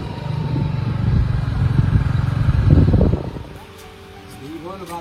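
A motorbike carrying two riders rumbles along a road, its engine loud and close for a few seconds before it fades. A voice then starts talking over the quieter background.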